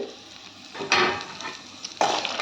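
Grated coconut stirred briefly in a hot pan for almond chutney, soft scraping and low sizzling with two louder stirring bursts, no talking.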